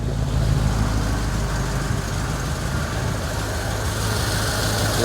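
A Ford flathead engine with an exhaust leak idles steadily and loudly up close, a dense continuous rumble with a rough low throb and no voices over it.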